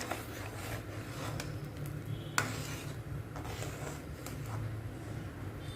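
Steady scraping and clinking of a spoon stirring carrots fried in ghee and sugar in a pot, continuous and close, with a low hum underneath and one sharp clink midway.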